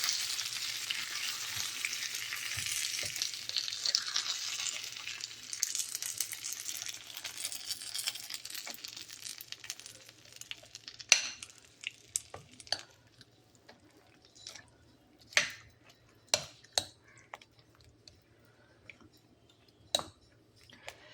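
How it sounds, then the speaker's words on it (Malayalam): A hot pan of lemon pickle with asafoetida sizzles steadily at first, then the frying fades as a spoon clinks and scrapes against the metal in scattered, sharp knocks. "നമുക്ക് ഇളക്കാം."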